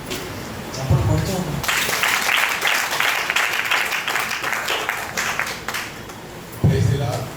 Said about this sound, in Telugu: Ladies and gentlemen, let's put our hands together.